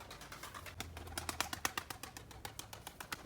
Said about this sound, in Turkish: Evet, komşumuzun güvercinleri.